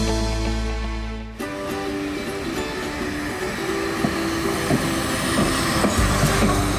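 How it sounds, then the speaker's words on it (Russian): A century-old steam locomotive arriving in Komi rumbles along the rails with steady clickety-clack and wheel noise, a continuous close train sound with tonal hum, no talking. "Летом в Коми прибыл паровоз прошлого столетия"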